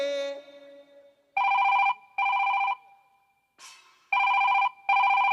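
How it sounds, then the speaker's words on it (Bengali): A telephone rings in four loud electronic bursts, evenly spaced, with a voice speaking briefly before the first ring and between rings. "কি অসময়ে আবার কে ফোন করলো?"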